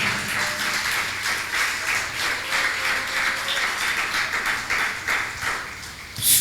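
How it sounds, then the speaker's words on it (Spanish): A church congregation applauds in a sustained round of dense clapping that holds steady for several seconds at moderate volume, with no speech over it. "Ríndale palmas a Cristo en esta tarde."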